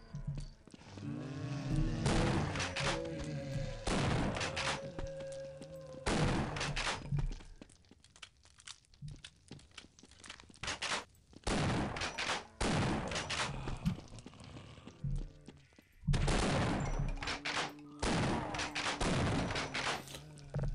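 Bursts of machine gun fire in the video game They Hunger, rapid rattling volleys that come in several loud stretches with short pauses between, mixed with booming impacts and game sounds.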